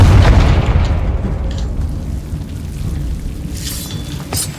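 A Confringo spell blast in the Hogwarts Legacy video game: a loud, booming explosion at the start that decays into a rumbling tail, with a sharper crackling burst near the end.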